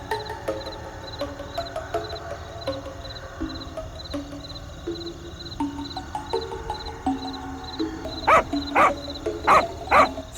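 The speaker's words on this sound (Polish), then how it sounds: "dlaczego Flawi tak szczeka?" Cartoon dog barking in the Toca Boca video game over light game music and chirping background tones; a quick series of sharp barks near the end, loud and close.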